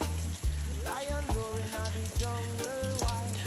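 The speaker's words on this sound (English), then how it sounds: "You can see the rain is coming down pretty good right now." Steady patter of heavy rain falling on a surface in Jamaica during Hurricane Melissa, continuous broadband hiss with scattered drips, fairly close, no talking over it.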